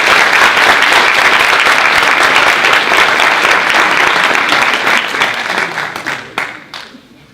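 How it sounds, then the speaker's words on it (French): Loud, dense applause from a large audience at a law pleading competition ceremony, sustained for several seconds before thinning out and fading toward the end. "Mesdames et messieurs, je voudrais que vous applaudissiez Monsieur Alain Bertomio."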